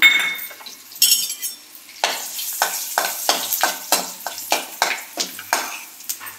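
Whole spices and chillies fry in butter in a pan for egg butter masala, a near sizzle broken by a regular run of spoon scrapes and clinks on the pan, with no speech.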